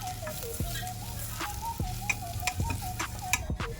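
Spice powders for tomato rice being stirred in a hot pan, a faint sizzle with light rhythmic ticks of the spoon against the pan, under soft background music.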